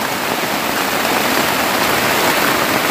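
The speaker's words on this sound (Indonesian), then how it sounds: "Ini hujannya hujan angin teman, makanya airnya masuk." Heavy windblown rain pours down on a shelter hut at night in a dense, unbroken hiss, loud and close, with a gusty rush blended in.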